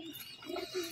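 Racing pigeons coo briefly at close range, a soft low throaty burble of two or three rolling notes heard alone in under a second.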